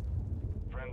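A grenade detonates in Call of Duty MW3 Team Deathmatch on the Estate map, a dense low rumbling blast filling the whole second, with a voice cutting in near the end.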